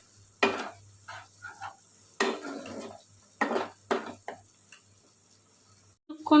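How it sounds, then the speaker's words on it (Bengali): Potatoes fry in mutton fat with ginger paste, stirred with a utensil that scrapes and knocks against the pan in several separate bursts over a soft sizzle. "তারপর দেব আদা বাটা। ভালো করে কষিয়ে নেব।"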